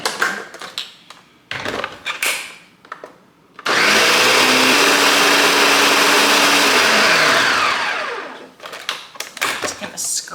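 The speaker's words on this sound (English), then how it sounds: "and then back to blending" Blender running on a batch of homemade Nutella: a loud continuous whirring grind that starts abruptly and runs for several seconds. Talk comes before it, and it winds down into more talk.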